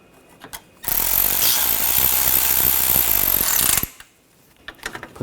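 A power tool runs steadily for about three seconds, tightening screws while fitting a radiator on a 2013-2022 Buick Encore 1.4L L4, with a continuous whirring, ratcheting drone that starts and stops abruptly, followed by faint clicks.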